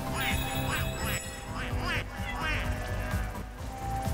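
A cartoonish duck quacks repeatedly in Astro's Playroom, short nasal bursts in a bouncy rhythm over game music and sound effects.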